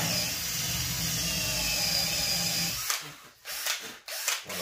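A drill bores holes for kitchen drawer pivots: a steady, close, high whine for a few seconds, then several short, choppy bursts with gaps between them.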